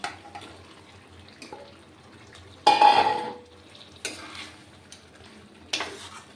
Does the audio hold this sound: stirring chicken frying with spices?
yes